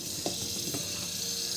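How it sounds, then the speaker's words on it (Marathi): Onion and tomato slices sauté in half a spoon of oil in a kadai, giving a soft, even sizzle with a couple of faint stirring scrapes near the start. "त्यामध्येच आपण टोमॅटो परतून घेऊ।"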